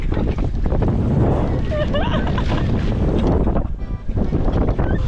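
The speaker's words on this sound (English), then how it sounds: "Wind is straight behind us." Strong wind roars across a sailboat running dead downwind in spray, a constant loud rush with water splashing and hull noise beneath, while people talk and shout over it throughout.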